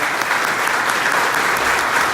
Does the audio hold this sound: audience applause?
yes